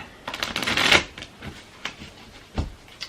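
Archangel Oracle cards being shuffled by hand, a dense run of rapid papery riffling and flicking that builds for about a second, followed by a few separate soft card slaps and taps, close and fairly quiet with no talking.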